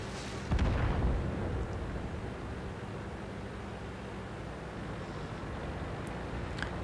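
An M48A1 Patton tank's main gun fires in a tank video game, one loud booming report that rolls off into a long rumbling decay and low engine hum, with faint clicks later.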